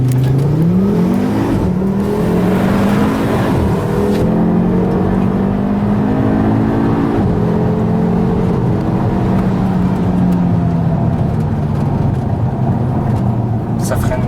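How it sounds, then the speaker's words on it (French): A 2015 Audi RSQ3 with a 340 hp five-cylinder engine launches from a standstill in dynamic mode, its loud engine note climbing through several gear changes with rising and falling pitch sweeps, heard from inside the car with voices over it. "Petit départ arrêté."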